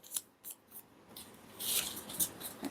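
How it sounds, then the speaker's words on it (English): Scissors trimming paper tabs for a junk journal, with a series of close, crisp snips in an uneven rhythm, quiet and alone. "I'm going to trim this off a little bit there."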